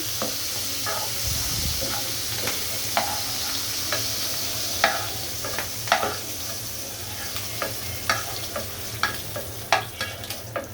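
Bitter gourd rings fry in hot oil, a loud steady sizzle broken by frequent sharp clinks and scrapes of stirring, close and continuous with no talking.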